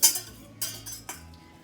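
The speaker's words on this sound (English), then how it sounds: "I'm going to use a blob of butter to melt in the pan, like so, and I'll use a whisk just to melt it down." A whisk clinks against a pan while melting a blob of butter during home dinner cooking, three sharp metallic taps spaced about half a second apart, fairly quiet and close.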